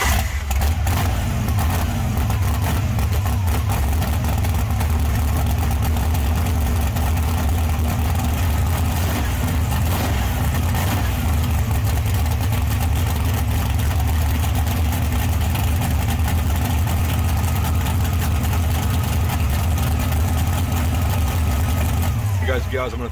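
A twin-plug Pro Stock 426 Hemi runs steadily with a loud, deep, rough idle that stays close and continuous, never pausing.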